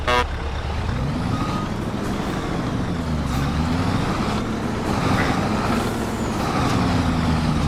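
A heavy truck drives in Farming Simulator 25, its engine droning and shifting steadily with a low rumble, loud and continuous, hiss and whine rising over it at times.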